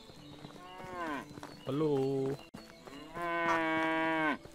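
Cattle in the video game Medieval Dynasty moo in three long, loud calls close by, the middle one deeper, with a brief spoken greeting among them.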